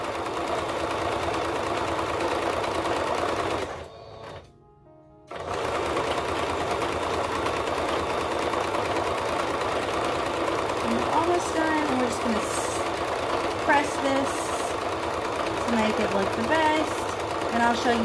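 A sewing machine hems a crop top, running in a steady continuous whir interrupted once by a brief pause, then resuming with faint clicks, close and loud under a talking voice.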